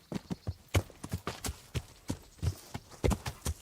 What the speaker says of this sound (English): I'm just randomly horse riding through the barn